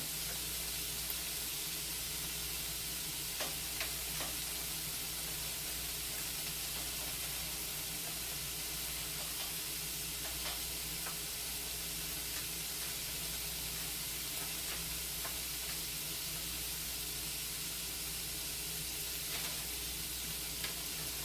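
Bacon frying in a cast iron skillet, a steady dense sizzle and hiss throughout with a few faint clicks and scrapes, close and continuous with no talking.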